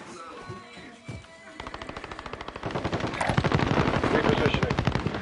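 Automatic gunfire rings out in a battle royale video game, first sparse shots then sustained rapid bursts growing louder and denser, with players talking over the action.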